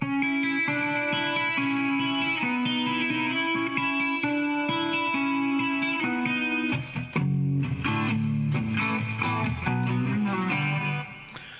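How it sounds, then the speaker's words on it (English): A clean electric guitar plays chords and single notes with a shimmering, wavering chorus effect and some reverb, steady and alone, with a busier strummed passage toward the end. "Maybe it needs a chorus. I can add a chorus."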